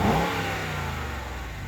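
A 2018 Dodge Charger RT fitted with an AirAid intake revs up close by, a loud, rich engine roar that swells briefly and then holds steady with no voices.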